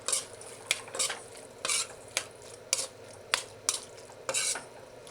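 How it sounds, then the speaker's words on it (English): A spoon scrapes and stirs a sloppy joe mixture in a pan, about ten sharp scraping strokes in an irregular rhythm over a faint sizzle, close and alone without voices. "You just stir the top to the bottom."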